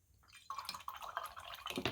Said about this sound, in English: we can clean out the brush